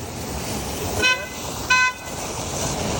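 Two short car horn toots, the second slightly longer, sounding over a steady background of road and traffic noise.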